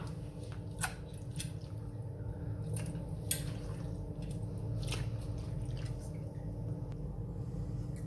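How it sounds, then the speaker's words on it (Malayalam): Washed, drained beef for Kottayam-style beef ulathu goes into a pressure cooker with soft, wet squishing and a few small clicks and drips, close and quiet, with no talking. "അതിനകത്തോട്ട് ബീഫ് നന്നായിട്ട് കഴുകി വെള്ളം കളഞ്ഞു വെച്ചിരിക്കുന്നത് എടുത്ത് ഇടാം"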